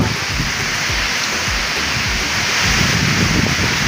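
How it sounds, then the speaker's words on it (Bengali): Heavy rain pours steadily outside at Gangasagar on the coast, a dense continuous hiss with low gusty rumbles, loud and unbroken throughout with no voices. "প্রচুর বৃষ্টি হচ্ছে বাইরে"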